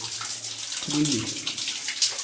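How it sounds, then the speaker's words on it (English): Spring water runs steadily through a channel in an ancient stone quarry, a continuous close splashing trickle, with a voice talking briefly over it partway through. "the spring here, I guess, has been running for many hundreds or more likely thousands of years"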